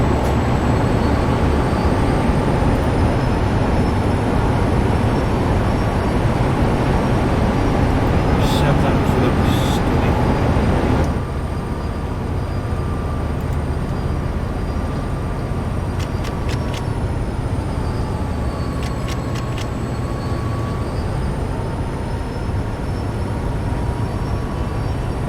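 A train engine in Train Sim World 2 gives a steady, loud drone with a constant low rumble and faint high whine, continuous throughout with a slight drop in level midway.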